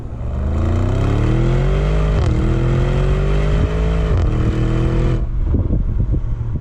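A 500 hp Audi SQ8 engine revs loudly and climbs, with the eight-speed automatic snapping through gear shifts in brief dips, close and dominant with no speech.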